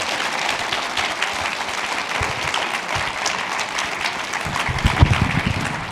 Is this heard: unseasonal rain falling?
no